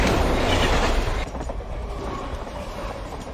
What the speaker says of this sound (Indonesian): tiba-tiba Hamzah ditabrak kereta api.